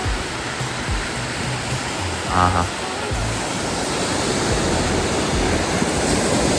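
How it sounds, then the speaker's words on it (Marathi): Sea waves on the beach at Kashid, a broad continuous roar of surf heard close and loud throughout, with a short laugh partway through. "तसं हे समुद्राचा आवाज पण कुणाला पण ऐकत ऐकत इथं झोप येईल मस्त"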